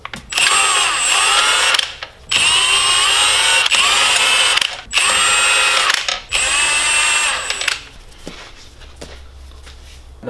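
A power tool on a BMW E9x xDrive spins off the front wheel lug nuts in four loud, steady whirring bursts separated by brief pauses, then quieter rattling handling noise.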